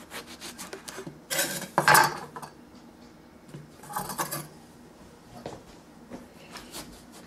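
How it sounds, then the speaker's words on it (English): A butcher knife slicing a raw eggplant into half-inch rounds on a cutting surface: a few brief scraping, crunching cuts in separate bursts with quiet gaps between, close and moderately loud. "Then I'm going to slice the eggplant in about 1/2 inch slices."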